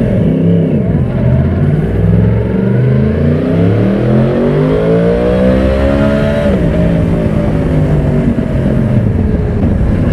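A Yamaha YZF 1000 R1 motorcycle engine pulls hard in sixth gear from about 3500 rpm at 80 km/h, its loud close roar rising steadily in pitch for several seconds before the throttle eases.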